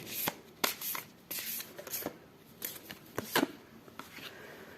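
Oracle cards being shuffled and picked by hand during a tarot-style reading, with a series of quick papery riffles and flicks, close and moderately loud, separated by short quiet pauses and no talk.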